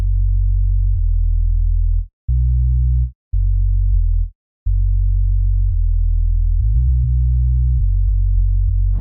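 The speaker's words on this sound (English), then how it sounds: "So the bass line is just a simple sine bass from Citrus." A deep, smooth synthesized sine sub bass plays a simple stepping line of sustained low tones, with a few brief gaps, alone and prominent, in FL Studio.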